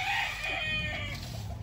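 A rooster crows among farm chickens, a brief clear call over low background noise and clucking.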